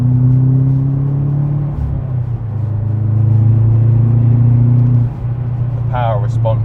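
A Subaru Impreza WRX with an upgraded exhaust accelerates, heard from inside the car as a loud, steady engine drone. The pitch climbs and then dips at a gear change, and a brief voice comes near the end.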